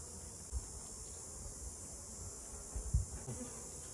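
Honey bees buzz around a packed swarm trap hive being transferred into a box, a faint steady hum with a few soft knocks and handling thumps close by.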